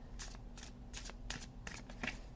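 A small indie oracle card deck shuffled hand over hand, giving a quiet run of soft, papery riffling bursts at a steady rhythm, close but faint, with no talking.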